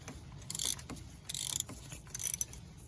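A hand ratchet clicks in three short bursts while removing two T40 bolts from the ignition coil of a Jeep Wrangler YJ 4.2 inline six, its rapid pawl ticks close and fairly quiet, with pauses between strokes and no talking.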